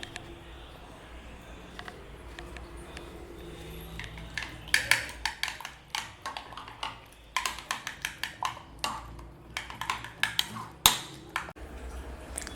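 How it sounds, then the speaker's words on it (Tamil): Egg being whisked with chilli flakes and salt in a bowl, a rapid series of light clinking taps from utensil against the bowl that starts softly and grows busier and louder through the second half, with no talking. "இதெல்லாம் சேர்த்து நல்லா மிக்ஸ் பண்ணிக்கோங்க"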